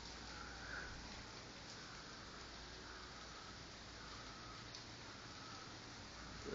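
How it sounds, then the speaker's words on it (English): Rain falls steadily on a rainy day in Cairo, a soft, even hiss of drops with no breaks, heard faintly from a porch with no voices. "It's raining,"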